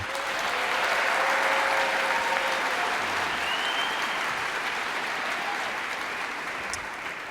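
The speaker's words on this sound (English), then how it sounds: "please, round of applause for all of you" Sustained, even applause from an audience at a youth dance camp's final performance, with many hands clapping steadily and no talking, tapering slightly toward the end.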